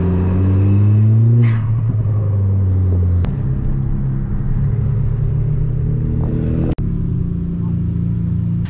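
A hybrid-turbo Ford Fiesta ST's engine roars loudly under hard acceleration, a strong steady drone that rises in pitch and then holds, with a couple of sharp clicks and a brief dip near the end.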